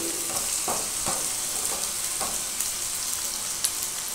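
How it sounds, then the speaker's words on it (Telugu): Onions, green chillies and curry leaves frying on a high flame, a steady loud sizzle with occasional stir clinks and pops, close and continuous with no talking. "ఉల్లిపాయలు కొంచెం కలర్ వచ్చేంత వరకు ఫ్రై చేసుకోవాలన్నమాట"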